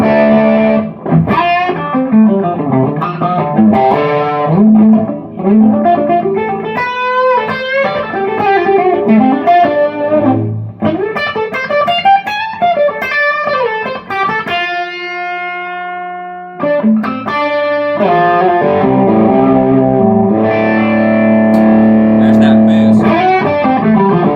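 Loud electric guitar through stacked overdrive pedals, including a Nobles, with heavy distortion, playing bends, chords and sustained ringing notes, with thick saturated tone filling the space.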